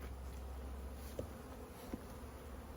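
Honeybees at an open backyard hive during a merger split, a faint steady buzzing hum with a couple of brief louder passes close to the microphone.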